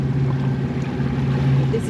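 A sailboat's engine drones steadily from close by at the stern, a low, even rumble with a faint wash of wind and water over it, unbroken throughout.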